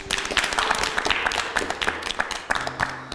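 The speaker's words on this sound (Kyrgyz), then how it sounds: "Кол чаап коюңуздар." A studio audience applauds a guest on a Kyrgyz TV show, with dense, steady clapping from a crowd running throughout at moderate loudness.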